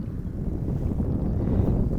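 A motorcycle engine idles steadily in neutral, a continuous low rumble throughout with some wind noise on the microphone and no talking.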